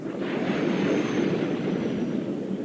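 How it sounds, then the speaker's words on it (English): A steady, loud rumbling roar of the Millennium Falcon spaceship from Star Wars as it drops out of hyperspace, a broad engine-like wash of noise that holds constant with no talk. "the Millennium Falcon comes out of hyperspace near the coordinates where Alderaan once existed"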